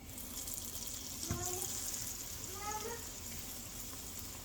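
Gram-flour coated cauliflower pakoras frying in a kadhai of hot oil, a steady close hiss and crackle of sizzling that runs throughout, with a few faint tonal chirps over it.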